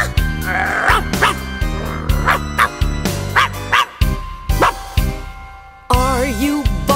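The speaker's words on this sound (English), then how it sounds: "Are you barking?" A small puppy barks in short, loud, close yips, repeated in an irregular rhythm over a cheerful children's song with a singing voice.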